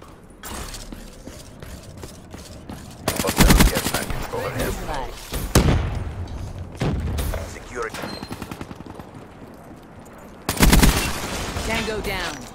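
Rapid KN-44 assault rifle bursts in Black Ops 3 multiplayer, loud and close, with sharp volleys clustered around the third to sixth seconds and again near the end, amid game noise and a talking voice.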